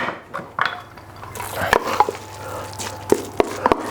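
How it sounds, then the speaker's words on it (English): A spoon stirs coconut rice in a bowl, giving close scraping and a few sharp clinks against the dish in an uneven rhythm, with no voices. "just give that a mix so it's a bit more fluffy"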